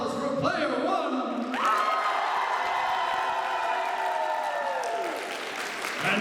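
A cosplay contest audience at MAGFest 2026 bursts into loud, sustained applause with cheering that swells and then tapers off, while an amplified announcer's voice booms over it at the start.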